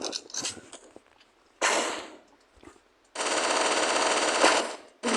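Bursts of rapid automatic gunfire in a shooting video game, aimed at the player: a short rattle at the start, another burst near two seconds, then a sustained loud volley of about two seconds near the end.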